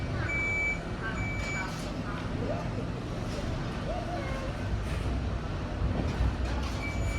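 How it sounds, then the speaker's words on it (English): Reversing beeps from a big lorry on a city street in Krakow, a few intermittent high tones sounding under people talking and traffic rumble. "there's a big lorry behind Sarah."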